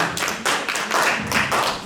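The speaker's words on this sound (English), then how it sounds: "A round of applause for him" An audience applauds at an integration evening, a brief, dense round of clapping with steady hand-claps throughout, loud and close, no voices over it.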